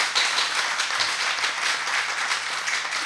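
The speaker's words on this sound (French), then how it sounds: "On les applaudit très très fort." An audience applauds a young dance group at a televised show, a steady wash of many hands clapping at moderate loudness with no voices on top.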